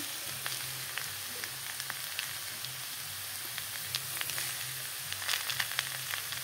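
Pasta ingredients fry in a pan with salt added, giving a soft, steady sizzle with scattered small pops and crackles, faint and continuous, no voices.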